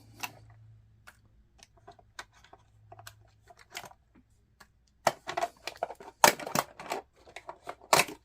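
Finger-tab body pins are pulled from an RC truck body, producing a series of small, close clicks and metallic ticks, sparse at first and then quicker and louder toward the end.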